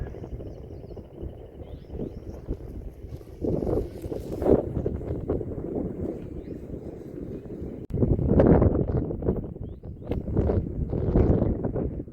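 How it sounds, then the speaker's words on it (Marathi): Strong wind buffets the microphone outdoors near a temple in the hills, a continuous rough roar that surges in gusts and grows louder partway through. "केवढा वाऱ्याचा आवाज आहे."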